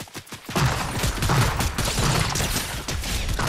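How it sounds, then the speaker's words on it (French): Rapid bursts of gunfire from a Fortnite match on PS5, dense and continuous, loud and close throughout with no voices on top. "Ça tire!"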